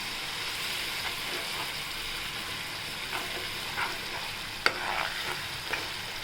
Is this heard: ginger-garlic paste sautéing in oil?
yes